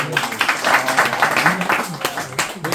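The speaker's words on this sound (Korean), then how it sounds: "네, 박수." A classroom audience claps briefly during a Korean lecture on Chinese geography, with the sound mixed under steady, overlapping voices and talk in the room.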